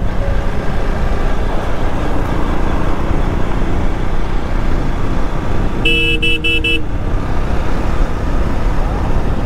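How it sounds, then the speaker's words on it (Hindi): A motorbike horn honks in short bursts over steady, dense traffic noise, loud and close, with the engine rumble continuing throughout. "भाई, कभी का हॉर्न बजा रहा हूँ भाई।"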